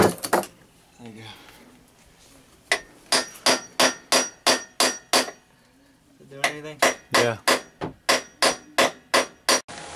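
Sharp metallic hammer blows ring out close by in quick steady runs while a go-kart is being fixed, pausing briefly mid-way as people talk in between.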